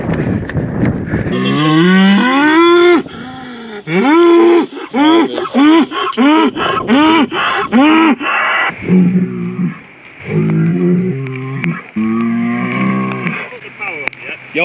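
Two massive bulls bellow loudly at close range as they try to fight, a rapid series of about a dozen deep, wavering moos that rise and fall, with brief gaps between calls.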